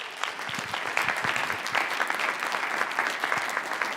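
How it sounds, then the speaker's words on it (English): A theatre audience gives a round of applause at a women in theatre leadership event, with distinct individual claps standing out over a lively, moderately loud patter that continues steadily. "So please, a round of applause for those supporters."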